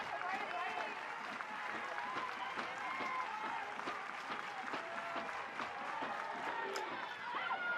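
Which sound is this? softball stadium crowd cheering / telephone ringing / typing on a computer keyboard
softball stadium crowd cheering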